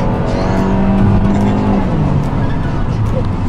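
A Fiat with a small turbo engine accelerates with four people aboard. The engine's drone, heard from inside the cabin, climbs steadily in pitch and stays loud and continuous throughout.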